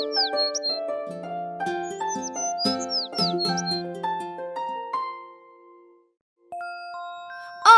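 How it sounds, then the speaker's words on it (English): A bright, melodic bird song of whistled notes and trills, clear and close, trailing off into a pause before a final rising call. "they both heard the sound of a beautiful bird perched on a tree, singing so beautifully that they stood entranced"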